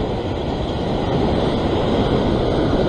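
A steady, loud rush of ocean surf against a rocky shore during sea fishing fills the whole stretch, a dense continuous roar with no distinct breaks or voices.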